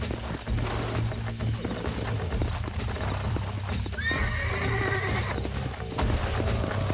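Horse in the video game Red Dead Redemption, with rapid clip-clop hooves pounding throughout and a clear, close whinny rising midway, amid busy game background sound.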